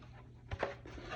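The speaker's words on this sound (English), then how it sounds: "Just rub the blade on it." A hobby knife blade scrapes across a plastic model kit part for a TIE pilot figure, giving a few short, close, quiet rubbing strokes.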